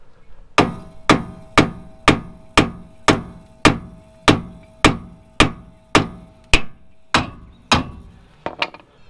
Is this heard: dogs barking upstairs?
no